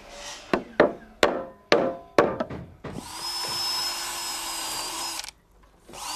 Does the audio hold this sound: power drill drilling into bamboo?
yes